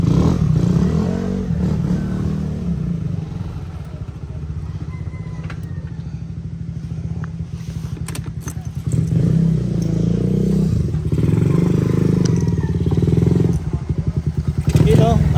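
A Suzuki Raider 150 motorcycle on a group ride to a beach resort in Tanza, Cavite gives a close, loud, buzzing engine drone that swells as it revs, with faint voices partly mixed in.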